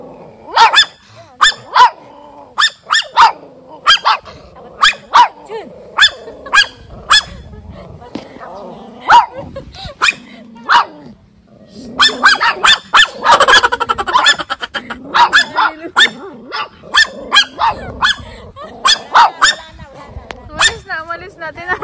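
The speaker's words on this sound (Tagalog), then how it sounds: "Ang galing yung aso na yun." A dog on a nature farm barks repeatedly in sharp bursts, interspersed with low growling and a stretch of rougher snarling, close and loud, while people talk nearby.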